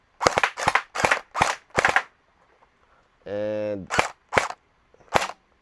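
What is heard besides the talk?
TG SLR v2 gel blaster toy firing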